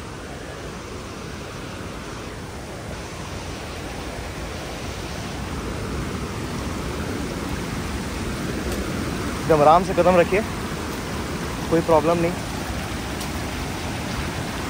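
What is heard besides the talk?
water flowing at a hidden waterfall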